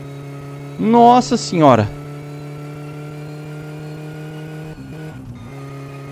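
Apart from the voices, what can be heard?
Satsuma car engine revving at speed in My Summer Car video game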